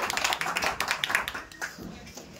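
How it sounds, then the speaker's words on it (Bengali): Audience at a jewellery shop's lucky draw contest claps for a refrigerator prize winner, a short burst of scattered, fairly close claps that thins out and fades after about a second and a half. "জোরে হাততালি হয়ে যাক ওনার জন্য"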